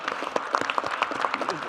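Audience applause at a town hall meeting with the president in Ulsan: a short burst of steady, crisp clapping from a crowd, close and fairly loud, without voices.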